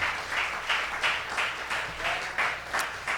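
A church congregation at a Sunday service applauds in rhythmic waves, the claps swelling and easing in a regular pulse, fairly loud and close, with no voices over it.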